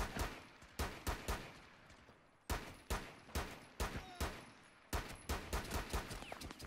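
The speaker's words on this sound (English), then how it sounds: "I'm shooting him, but he's not dying." Video game gunfire aimed at an enemy during a terrorist hunt, a rapid series of loud, sharp shots in short bursts and single cracks, each with a brief echoing tail, without talk.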